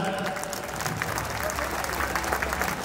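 An audience at a Bhim song night bursts into loud clapping, a continuous dense patter of many hands heard up close for a few seconds.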